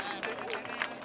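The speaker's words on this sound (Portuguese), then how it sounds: "E palmas pra essa batalha, palmas" Brief, fairly faint crowd applause and cheering at a rap battle, clapping blended with crowd noise for about a second.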